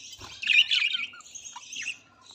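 Budgerigars in a cage give a short burst of bright, close chirps and chattering tweets, loudest early and fading toward the end.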